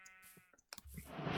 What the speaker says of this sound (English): And another sheep.